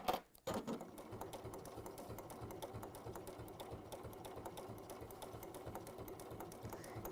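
A sewing machine stitches steadily through a thick seam in a sewing workshop, a continuous rapid mechanical whirr with fast regular needle ticks after a brief start, close and moderately loud, with no voices.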